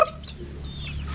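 Chickens and chicks on a backyard farm cluck and peep, with several thin, high chirps rising and falling over a steady low hum, close and moderately loud.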